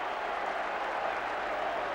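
Stadium crowd at a 1970s English league football match applauding Willie Carr's second goal for Wolves, a steady broad roar of clapping and cheering that fills the whole clip at even loudness.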